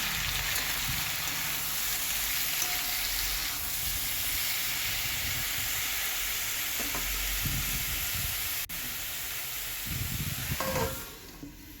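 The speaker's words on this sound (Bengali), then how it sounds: "তো সবজিটাকে তুলে দিয়েছি এরপর ভালো করে নেড়ে নেবো" Vegetables for a Bengali chorchori frying in a pan, giving a steady, dense sizzle throughout with occasional soft scrapes and knocks of stirring. The sound fades out at the very end.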